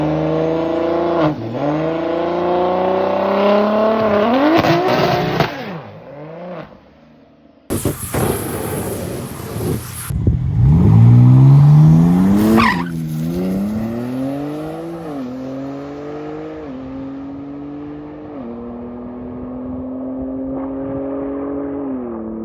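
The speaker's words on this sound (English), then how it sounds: "Left lane, there's no prep, so that's why I blew the tires off." A BMW Supra launches hard at an unprepped drag strip, its engine revving loudly with gear-change pitch sweeps while the tires spin, followed by a sharp bang and a long run of rising revs, with no voices.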